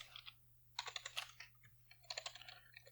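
Code being typed on a computer keyboard, quick bursts of light key clicks separated by short pauses, close and clear over a faint low hum, no voices.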